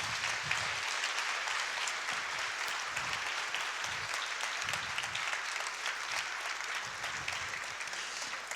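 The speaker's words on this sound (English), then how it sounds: "One big applause for Mark." Sustained applause from a conference audience after an entrepreneurship talk at PODIM 2014, a dense, steady wash of clapping that holds at an even level for the whole stretch.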